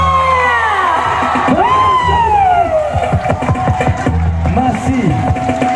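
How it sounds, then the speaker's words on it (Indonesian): Outdoor crowd cheering and shouting at a Nias stone-jumping (lompat batu) show at a regent's residence in South Nias, loud and continuous with a rising whistle-like tone and voices talking over it. "Berikan tepuk tangannya."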